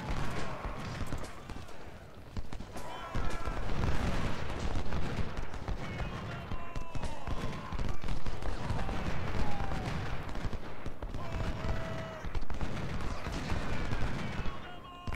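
Massed musket and cannon fire from a Gettysburg battle in the strategy game Ultimate General, a dense, continuous rattle of volleys and booms that stays loud throughout without a pause.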